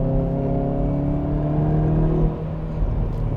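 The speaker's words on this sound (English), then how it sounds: "Listen to this downshift." Hyundai Veloster N hot hatchback engine blips and rumbles through a downshift heard from inside the car, a loud steady droning growl that dips and surges briefly near the end.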